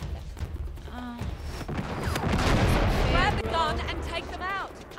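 Rifle gunfire in the video game Uncharted 3, with bursts of shots and booms in a busy battle scene, mixed under overlapping voices and game sound effects.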